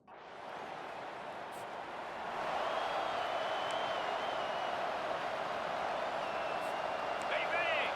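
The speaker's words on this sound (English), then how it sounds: "This crowd, full throat, splitting the eardrums and letting them know it's going to be a long day." A stadium crowd roars in EA Sports College Football 25 for Minnesota Gophers versus UCLA Bruins, swelling into a loud sustained cheer with a faint whistle near the end.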